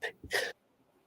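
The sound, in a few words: sneeze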